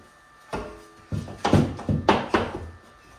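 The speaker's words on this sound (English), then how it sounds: "just going to get our level and just gently tap it in place." A spirit level tapped gently against plasterboard set on dabs of adhesive on a wall gives several soft, dull wooden knocks, one single tap followed by a cluster of close, light thuds.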